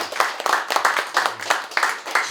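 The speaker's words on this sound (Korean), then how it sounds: "다시 한번 멋진 공연 보여주신 우리 전기호 CR님께 박수 부탁드리겠습니다" Audience at a commemorative event claps for a performer after a performance, a close, loud burst of hand claps in a quick, fairly regular rhythm, with no voices over it.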